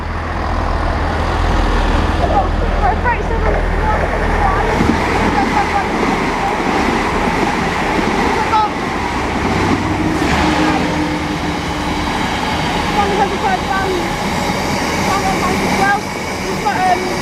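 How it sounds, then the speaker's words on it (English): A Class 165 diesel unit approaches West Ealing station on the Great Western Main Line, a loud, sustained low rumble with rail noise building and shifting as it draws in. "Approaching is a class 165 104 with service bound for Greenford."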